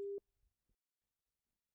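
Telephone busy signal on a radio call-in line, a single loud steady tone cut off after a moment, followed by near silence with faint clicks.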